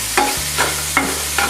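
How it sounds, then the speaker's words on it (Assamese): Cashews fry with tomato and onion for shahi paneer, with a spoon stirring in four evenly spaced scraping strokes over a steady low sizzle and a hum, close and without voices. "আৰু লগাতাৰ ভাজি থাকিম"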